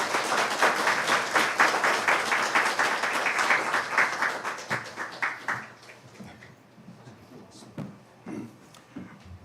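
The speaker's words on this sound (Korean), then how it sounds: "박수로 환영해 주십시오." A church congregation applauds to welcome the pastor at a worship service, a dense, loud wash of clapping that gradually thins and fades into scattered claps.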